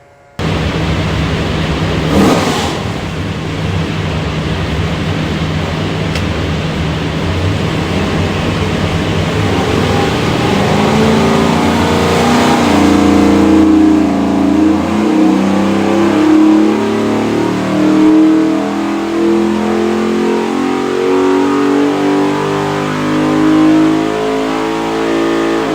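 A 408ci LS V8 with a Holley Sniper injection system and ATI damper makes a dyno pull, building from a steady loud idle into a long rising rev that swells and roars continuously, close and alone without talk.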